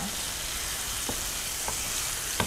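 Chicken pieces fry and brown in a pan, an even, close sizzle with a few light clicks of a utensil stirring, no speech.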